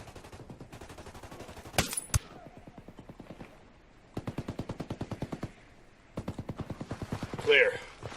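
Automatic gunfire from a Ghost Recon Wildlands shootout rattles in several rapid bursts, with a louder crack near the middle and short gaps between volleys; voices talk over the shooting.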